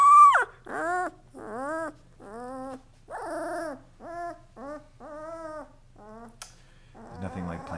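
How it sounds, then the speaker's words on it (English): Puppies about two weeks old yelp and whimper on a rug in a string of high, whiny cries, about a dozen short bursts close by, ending in a rougher scuffling bark. "They bark and they growl and they mostly sleep"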